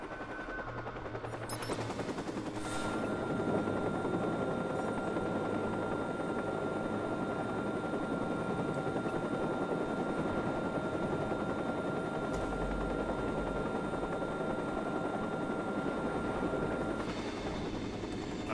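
A helicopter flies in the video game WAT: a steady, droning rotor and engine hum holds throughout, with a sharper burst of noise early on, and no talking.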